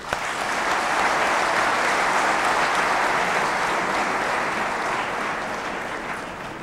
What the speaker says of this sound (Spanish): Vamos a darle un fuerte aplauso una vez más a Wim Dickerson, Julio Gambina y Jaime Stay